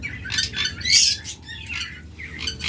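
Caged lovebirds at a bird seller's giving sharp, repeated squawks and chirps in quick bursts, fairly close, with no talking.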